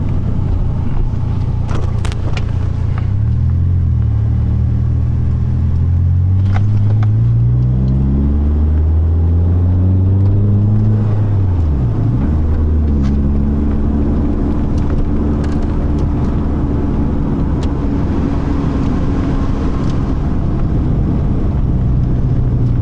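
A Fiat Palio 1.6 accelerates hard, its engine note climbing again and again through successive gear changes. It sounds loud and close, with a deep rumble and steady wind noise throughout.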